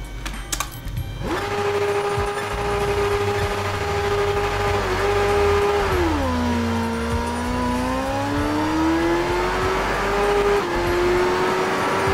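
A Yamaha R25 and a Kawasaki ZX10R race each other, their engines revving loud and sustained with a whining pitch that climbs, dips through a gear change and climbs again.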